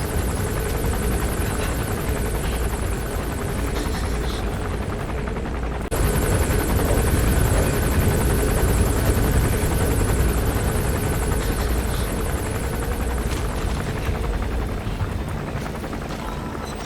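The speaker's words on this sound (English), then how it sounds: "That's an enemy gunship." An enemy helicopter gunship in Metal Gear Solid V roars overhead, a loud continuous rotor drone that fills the scene without pause, with no talking heard.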